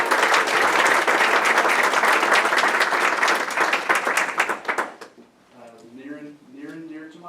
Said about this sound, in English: Round of applause for our state champions.